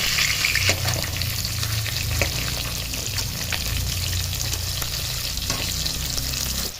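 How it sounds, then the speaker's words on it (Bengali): Pieces of catla fish rubbed with salt and turmeric fry in hot mustard oil in a wok, a steady close sizzle with faint stirring and spatter throughout and no talking. "কড়াইয়ে পরিমাণ মতো সর্ষের তেল দিয়ে গরম হলে নুন হলুদ মাখানো মাছ একটা একটা করে ছেড়ে দেব"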